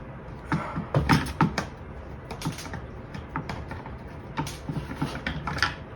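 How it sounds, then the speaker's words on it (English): Screws being tightened by hand on an Artika LED ceiling light fixture, a close series of small irregular clicks, taps and scrapes of metal and plastic with no talking. "we're just going to twist the unit, the light fixture, and now we can now tighten our screws"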